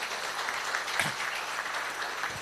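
An audience at an apparel training center's inauguration ceremony applauds in a moderate, steady patter of many hands, heard somewhat distant, with a brief louder thump midway.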